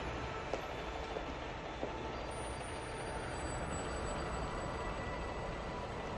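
A receding train locomotive rumbles steadily as a dense, continuous low roar with faint metallic high tones, holding even loudness throughout with no talk.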